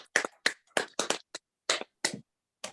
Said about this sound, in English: I just like to have everybody give themselves a round of applause